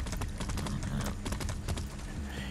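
Hooves of a painted horse made to look like a zebra clip-clop in a rapid, steady trotting rhythm in Far Cry 6, close and continuous over a low background rumble.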